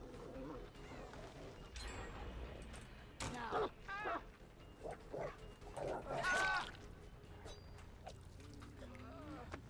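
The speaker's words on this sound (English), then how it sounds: "Drifter's wife's dog / dog." A dog in the video game Destiny barks and whimpers in a few short bursts, with a voice talking over game sounds throughout.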